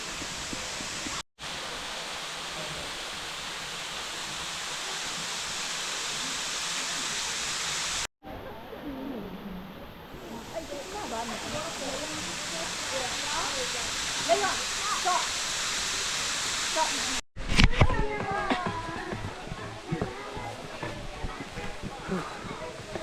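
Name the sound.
waterfall in the Blue Mountains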